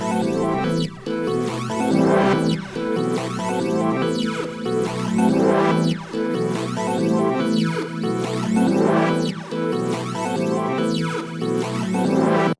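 Bouncy synth chords with a shaper effect loop through a repeating 3-bar beat pattern, swelling and pulsing in steady cycles at moderate loudness, with no voices.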